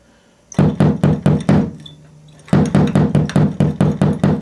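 Tom drum head tapped repeatedly with a stick while tuning its lugs toward an even pitch, a steady run of resonant knocks, a short pause, then another evenly spaced series, close and loud.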